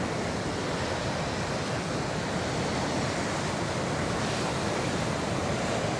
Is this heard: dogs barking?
no